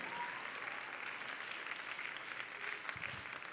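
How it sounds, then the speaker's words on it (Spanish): A church congregation applauding, a continuous dense wash of clapping heard from some distance at a moderate level, steady throughout with no talk over it. "Dale un aplauso fuerte a Dios"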